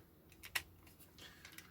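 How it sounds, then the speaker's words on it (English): Soft mechanical clicks from the rocker joint of a Mazinger Z DX Soul of Chogokin figure, two or three small, quiet ticks close up and alone. "the rocker goes 1 click out and a lot more of an angle clicking in."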